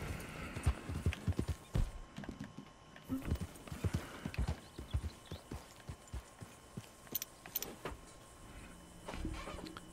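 Horse hooves from the game Red Dead Redemption 2 beat out a steady, rhythmic clip-clop of a trotting mount, fairly quiet, with faint ambient game sound underneath.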